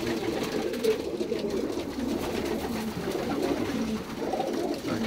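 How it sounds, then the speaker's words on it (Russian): A young pigeon coos softly and steadily at close range while being handled, with its low, murmuring calls running through the whole clip over a rustling background. "берем голубенку, у которого ноги разъезжают"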